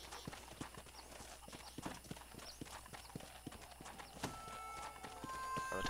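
Horse hooves clip-clop in a rapid, steady rhythm while a horse is ridden toward a race in Red Dead Redemption, the hoofbeats close and continuous over a faint background hum.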